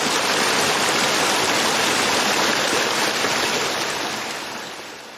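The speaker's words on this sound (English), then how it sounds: "the sound of the waterfall is being occluded by the rocks" Steady rushing waterfall water pours continuously, a broad dense roar that dulls and softens toward the end as rocks occlude it.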